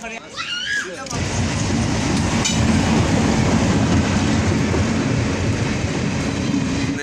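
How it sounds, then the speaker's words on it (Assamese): A train pulling into a station, a loud continuous rumble of wheels and rolling carriages with clattering and a brief squeal at the start, steady and close, with faint voices around it. "ফাইনালি ট্ৰেইন আহি পালে"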